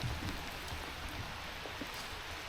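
Rain falling beside the River Strule at Newtownstewart, County Tyrone, a soft steady patter and hiss with occasional faint drops, fairly quiet and unbroken.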